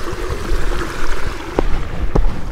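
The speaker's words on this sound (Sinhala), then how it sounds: "ලේකෙක එන වතුර පාර." Mountain stream flowing down from a lake at Cradle Mountain, a close, rushing wash of water with a steady broad roar, a couple of sharper splashes or knocks near the end, no talk.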